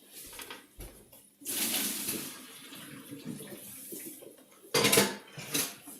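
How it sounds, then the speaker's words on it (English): Boiling pasta water pours from a pot into a sink, splashing and hissing in bursts with clanks of the metal pot, close and fairly quiet, no voices. "I got to step off camera for a second to drain this."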